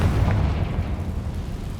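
A Confringo blasting spell explodes in Hogwarts Legacy, a deep rumbling boom that sustains loudly through the whole moment with no voices over it.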